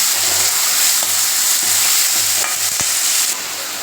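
Onion, tomato and curry leaves fry together in a pan, a loud, close sizzle with rhythmic stirring scrapes and taps of a spoon against the pan.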